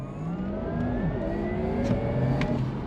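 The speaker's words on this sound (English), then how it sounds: "Launch control activated." A Porsche Taycan Turbo S Cross Turismo electric car launching hard under launch control, a rising electric-motor whine and whir climbing steadily in pitch with road and wind noise, no voices.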